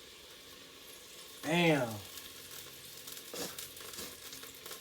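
Oil heating in a hot pan for green coconut chicken curry gives off a faint, steady sizzle, briefly covered by a short spoken exclamation.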